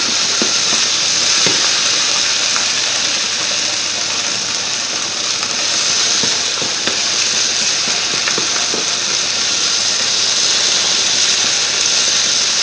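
A steady, loud sizzle of apple blood sausage frying in oil fills the whole stretch, a constant hiss with faint scraping taps from stirring mixed in.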